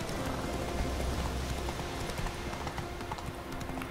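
Horse hooves clip-clop steadily along a road in The Witcher 3, a continuous rhythmic trot heard close under a broad ambient background, with no talk.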